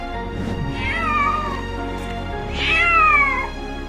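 A cat gives two drawn-out, wavering meows a second or so apart, close and loud over a low steady background hum.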